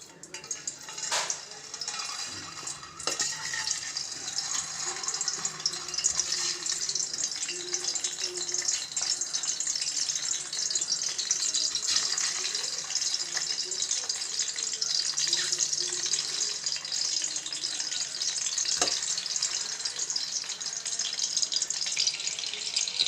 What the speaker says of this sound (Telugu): ఇప్పుడు ఈ ఎగ్స్ అన్నీ పైన లేయర్ కోటింగ్ మంచిగా క్రిస్పీ అయ్యేలా గోలించుకోండి